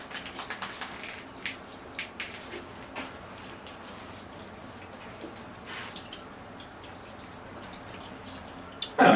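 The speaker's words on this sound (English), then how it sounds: "here I go with the watering can." A steady, soft splash of water poured from a watering can to rinse liquefied cement off a bonsai temple planting, continuous with scattered drips and a small knock at the end.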